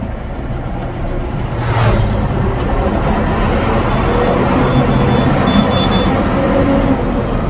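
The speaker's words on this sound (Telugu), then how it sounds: "బండి యాక్సిలేటర్ ఇచ్చుకుంటే క్లచ్ మూవ్ అయితే ఇట్లా ఉంటది" Lorry engine rumbling steadily and revving up as the accelerator is pressed and the clutch let out, a loud continuous low drone with a brief swell early on, no talking.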